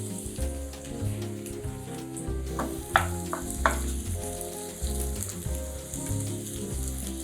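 Mushrooms frying in garlic-infused oil in a pan make a steady crackling sizzle with a few sharper pops and clicks, close up and moderately loud, under a soft tonal background and without speech.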